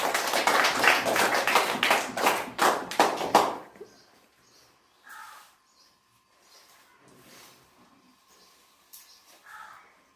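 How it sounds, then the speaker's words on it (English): Children clapping their hands in a classroom game, a burst of quick rhythmic claps close by for a few seconds, then falling to near silence with a few faint scattered sounds. "Clap your hands."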